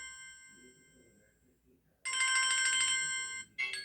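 Samsung Galaxy ringtone "Chime" rings out from a Galaxy A14 5G phone, a bright, loud burst of layered bell-like tones that starts abruptly after a fading earlier tone, pauses briefly, then resumes.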